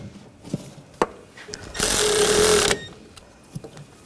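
Power tool tightening the upper strut nuts on a front strut and spring assembly of a 2014-2020 Nissan Rogue, a loud steady whir lasting about a second amid a few sharp clanks and taps.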